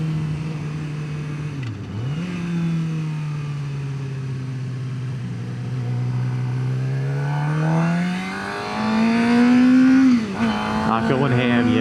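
A 600cc sport bike cruises on the interstate, its engine tone rising and falling through gear changes over continuous wind rush, then revving higher near the end; a rider's voice is faintly present.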